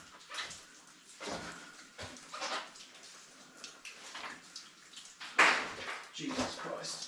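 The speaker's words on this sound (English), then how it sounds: "Get very wet on that water coming through." Water rushes through a historic underground passage in New Zealand, a steady splashing flow heard beneath excited voices, with sloshing surges and one sharp splash near the end.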